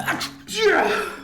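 A single sharp sneeze bursts out, followed by a brief voiced exhale, close to the microphone.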